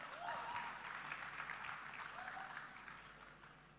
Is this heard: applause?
yes